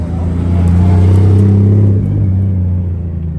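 A Nissan Skyline drives close by at a car meet in Japan, its engine a strong, steady low drone that holds loud, then eases off and fades toward the end, with no talk over it.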